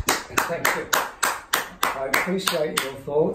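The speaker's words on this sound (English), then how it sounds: "So I'm going to applaud you" A single person claps slowly and steadily, about ten sharp, close claps in an even rhythm at a VJ Day 75th anniversary celebration, with a voice speaking over the later claps.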